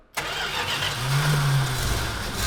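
A 1968 Plymouth GTX convertible fires up after a fresh battery goes in, with a quick crank catching into a steady, rumbling idle, close and loud.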